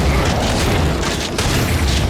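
Shotgun blasts against enemies in a first-person shooter, heavy and booming, layered into a loud, dense wall of battle noise with no clear pauses.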